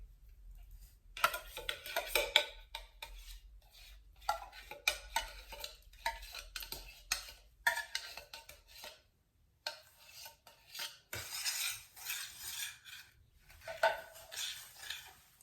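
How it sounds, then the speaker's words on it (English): A spoon scrapes and clinks around a bowl in steady, uneven bursts of stirring, close by, with brief pauses between strokes. "now I can mix all these ingredients"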